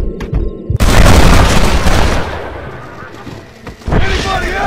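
Loud, close gunfire booms out in a Red Dead Redemption shootout, a sudden heavy blast that rolls on with dense crackling before a second burst near the end.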